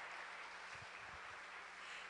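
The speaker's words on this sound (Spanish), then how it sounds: "Un aplauso para el Señor." A church congregation applauds during a worship service, a soft, distant wash of clapping with a low rumble beneath, steady and faint throughout.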